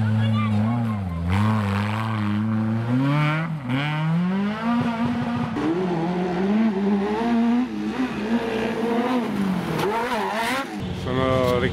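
An off-road Suzuki motorcycle fitted with a Yamaha engine races at Gattinara, its loud engine rising and falling in pitch through repeated revs, with a voice talking over it.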